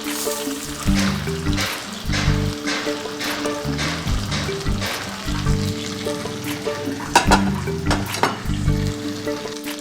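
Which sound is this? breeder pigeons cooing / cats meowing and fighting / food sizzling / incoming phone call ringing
food sizzling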